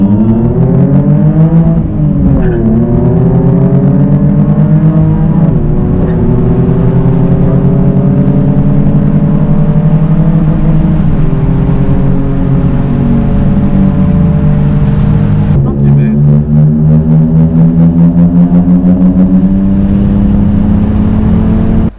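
Nissan 350Z with a VQ35DE V6 fitted with a GKTech plenum spacer, pulling hard in first gear from a 3,000 rpm roll, engine note rising steadily and loudly with two brief dips, close and continuous with no talking.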